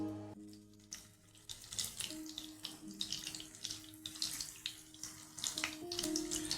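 Vinegar-marinated chicken wings sizzle and crackle steadily in hot oil over medium heat, a dense hissing spatter close by with a low hum underneath.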